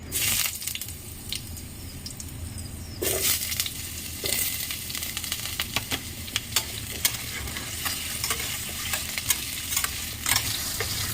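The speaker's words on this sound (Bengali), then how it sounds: "তেল দিয়ে দিয়েছি কড়াইতে তেলটা গরম হয়ে গেছে এখন এই যে আলুগুলো নিয়ে নিয়েছিলাম এই আলুগুলো এক এক করে দিয়ে দেবো" Potato pieces sizzle steadily in hot oil in a wok, a loud continuous frying hiss close by, punctuated by clinks and scraping of a spatula stirring them.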